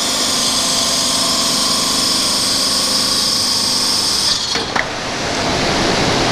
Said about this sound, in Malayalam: ഒരു കട്ടർ വെച്ചിട്ട് അവർ ആ മെഷീനിൽ കറക്റ്റ് അളവ് വെച്ചിട്ട് നേരെ വട്ടം കട്ട് ചെയ്ത് കളയാണ്.